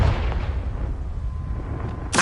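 A Confringo blasting spell in the video game Hogwarts Legacy bursts with a heavy, booming explosion followed by a low rumbling tail, then a sharp crack of a second blast right at the end.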